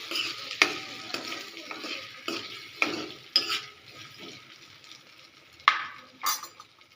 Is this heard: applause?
no